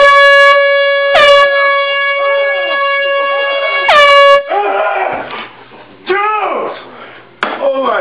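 An air horn blares in several loud sustained blasts for a wake-up prank, then shorter honks follow amid startled yelling and commotion.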